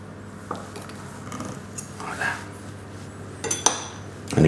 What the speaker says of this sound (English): And again, carry on whisking.